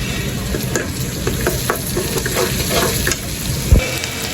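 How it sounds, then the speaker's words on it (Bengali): Ground spices with cumin paste and ginger-garlic paste frying in oil for a spicy egg bhuna curry, a steady close sizzle with stirring scrapes throughout and a brief knock near the end. "মশলাটা কিন্তু আগে দুই মিনিটের মতো তেলে ভাজা ভাজা করে নেবেন"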